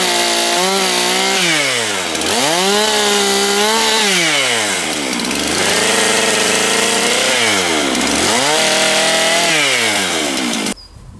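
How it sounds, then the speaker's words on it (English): A chainsaw carving the profile of a giant wooden mushroom roars loudly and continuously, its pitch rising and falling repeatedly as it bites into wood, then cuts off abruptly at the end. "I'm just going to do a little bit of chainsaw carving in cutting the profile to what I want"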